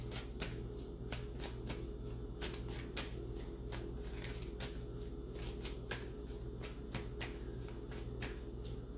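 A deck of tarot cards is shuffled in steady, repeated riffles, each crisp burst of card flutter close and fairly quiet, with no voices over it.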